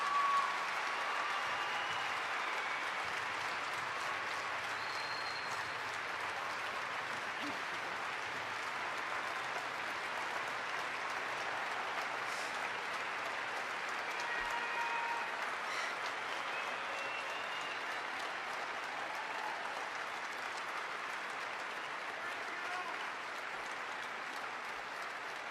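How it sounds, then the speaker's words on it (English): Sustained audience applause at an opioid solutions summit, honoring the moms, a dense steady wash of many hands clapping that holds evenly for the full length with no voices over it. "I want you to give them a round of applause"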